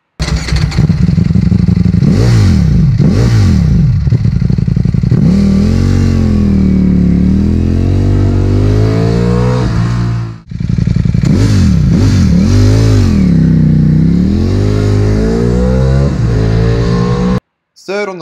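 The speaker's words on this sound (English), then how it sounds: "Here's what it sounds like." A Ducati V4 motorcycle engine revs up and down repeatedly, loud and close, with sharp rising and falling throttle blips and a brief pause midway.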